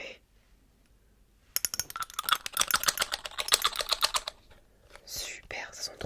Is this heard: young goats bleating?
no